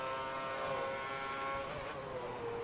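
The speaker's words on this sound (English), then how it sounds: "Rev your engine at me." A Formula One race car engine in the F1 2010 racing game at the Australian Grand Prix holds a loud, steady high-pitched whine that dips and rises once before settling, close up and with no talk.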